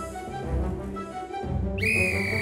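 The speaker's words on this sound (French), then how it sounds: "Il entend le coup de sifflet du chef de gare" A station master's sharp, high whistle blasts and holds near the end, cutting in over a dense, rumbling musical background in a Thomas & Friends cartoon.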